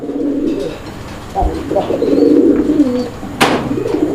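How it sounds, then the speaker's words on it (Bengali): A male pigeon cooing close by, several low throaty coos in short bursts, with a sharp flutter or chirp near the end. "দেখছেন দেখছেন অনেক সুন্দর ডাকের একটা নর"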